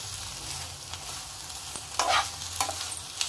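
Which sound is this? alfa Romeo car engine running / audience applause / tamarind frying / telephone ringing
tamarind frying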